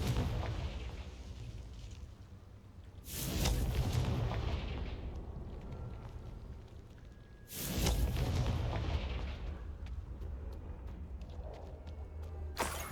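Two Confringo spell explosions in the Hogwarts Legacy video game, each a loud, booming blast that rolls away over a few seconds, set apart by a quieter stretch.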